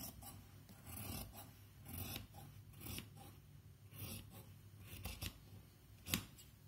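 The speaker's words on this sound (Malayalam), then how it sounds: "നമ്മൾ ഈ കഴുത്ത് കൂടി വെട്ടി എടുക്കുക" Scissors cut through nighty fabric around the neckline in a series of crisp snips and rasping slides, irregular and close, with quiet pauses between cuts.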